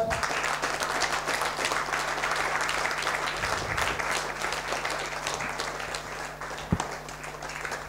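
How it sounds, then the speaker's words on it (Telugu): Audience clapping steadily in a hall after a family hug at a gathering, a dense sustained applause for the whole stretch with a low steady hum beneath and one sharp knock near the end. "good, come on everybody clap"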